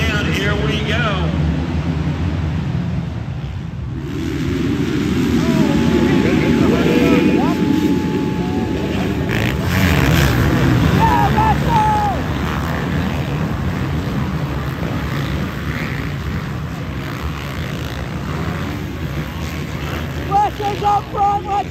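Motocross dirt bikes, including a two-stroke, roar off the start gate in a 450 LCQ race at Ironman Pro Motocross, a loud dense engine drone swelling then thinning as the pack pulls away, with people talking and shouting over it.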